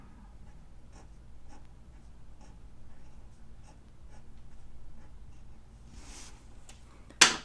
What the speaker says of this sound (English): So I think I will start by just writing Wendy's birthday right here.